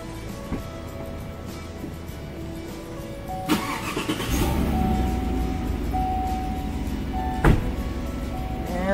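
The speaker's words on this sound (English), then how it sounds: "We're going to fire the truck up." A pickup truck engine cranks and fires up, settling into a steady idle rumble with a couple of sharp clunks, heard outdoors at an RV campsite in Cumberland Gap.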